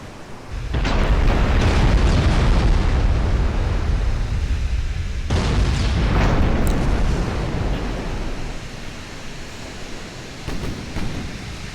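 Heavy booming shell explosions from high capacity naval rounds in the warship game Ultimate Admiral: Dreadnoughts, two loud rumbling blasts that roll on and fade into a low steady roar.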